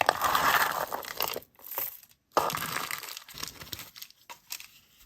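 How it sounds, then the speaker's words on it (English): Beads from a deluxe bead box are pulled out of their packaging with close, crinkling, rustling bursts that stop for short pauses and then start again, without anyone speaking. "Let me pull them out of the box."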